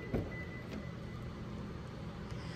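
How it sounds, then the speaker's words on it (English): A 2022 Lexus RX unlocks by keyless entry with the key fob carried, giving one sharp near click of the door locks over a steady low background hum, with no talking. "With our key fob on us, we can go ahead and unlock the vehicle."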